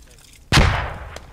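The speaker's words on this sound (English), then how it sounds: "Grenade!" A grenade explodes in the video game Squad: a single sudden loud blast after near quiet, with a rumbling tail that decays over about half a second, then a faint pop.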